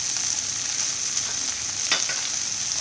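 Okra bhaji with coriander powder and other spices stirred in a frying pan: a constant bright sizzle, with a brief scraping stir near the end.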